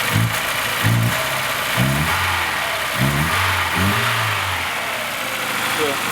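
A car engine, freshly serviced with adjusted valves, a new timing chain tensioner and a tightened chain, runs at a steady idle close by while someone talks over it.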